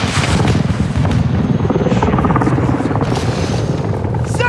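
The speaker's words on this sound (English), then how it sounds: "We're getting lit. Incoming! Flares!" Loud, continuous helicopter rotor roar in Call of Duty: Modern Warfare II with flares being deployed, dense booming pops layered over the steady drone, close and intense throughout.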